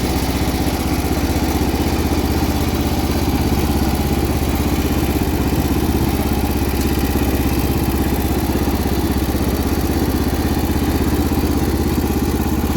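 A 1979 John Deere 216 lawn tractor engine runs steadily and loudly nearby, with its hood rattling metallically throughout and no talking.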